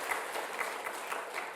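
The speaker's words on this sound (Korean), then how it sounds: "우리 박수로 좀 인사해 주시기 바랍니다." Applause from a church congregation during a Sunday worship service, a soft, steady wash of many hands heard at a distance and fairly faint.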